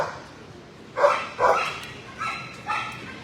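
Dogs in an animal shelter give four short, sharp barks in two pairs, fairly close and loud, with quiet background between them.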